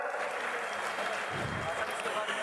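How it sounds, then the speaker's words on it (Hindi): A crowd at a public event with Haryana Chief Minister Saini in Meham welcomes him with thunderous applause, a dense continuous roar of clapping that stays loud and even, with some low rumble partway through. "जोरदार तालियों की गड़गड़ाहट से स्वागत"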